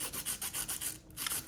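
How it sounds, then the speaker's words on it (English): A pencil is rubbed back and forth on 100-grit sandpaper, producing about eight regular rasping strokes with a brief pause near the end; the gritty scratching is close and steady with no talk. "to actually sharpen it, you just move it back and forth on some sandpaper"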